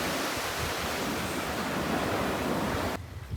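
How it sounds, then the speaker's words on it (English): Steady roar of surf breaking on a Seychelles beach beside a road, a dense continuous wash of waves heard close up with no voices, easing slightly in the final moment. "Another beach off the side of the road."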